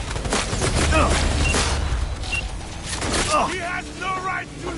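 Gunfire in Cyberpunk 2077, dense shots and booming impacts in a chaotic firefight, loud and close, with shouting voices over the shooting.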